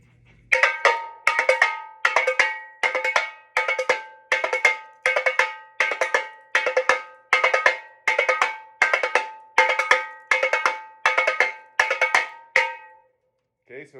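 Tamborim rhythm with closely spaced notes, heard as a steady run of bright, ringing hits in even groups, loud and close, with a brief pause before a final strike.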